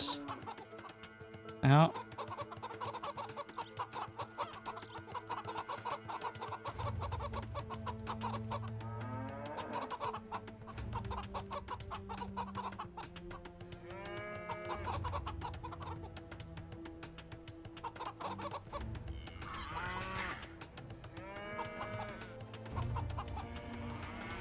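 Chickens cluck in the Age of Empires 2 real-time strategy game, with repeated soft clucks over quiet game sounds and occasional voices talking.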